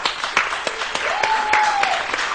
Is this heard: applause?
yes